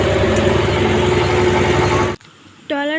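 A trawler boat engine thrums loud and close with a steady low chugging drone for about two seconds, then cuts away, and a voice follows.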